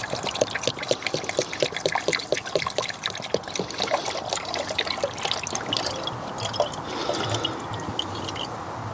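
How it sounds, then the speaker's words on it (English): Coolant antifreeze from a 5-litre bottle pours into a BMW 7 Series cooling system during a coolant flush, a steady gurgling trickle with glugging bubbles throughout, close and continuous with no talk. "I'll add the coolant / antifreeze first, and then we will just top up the rest with the deionized water"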